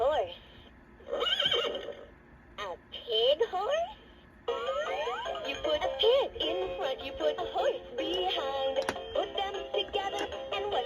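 A LeapFrog Fridge Farm magnetic toy (2007 version) plays a bright electronic horse whinny with a jingly musical sound, followed by clip-clop effects, after a short spoken toy announcement.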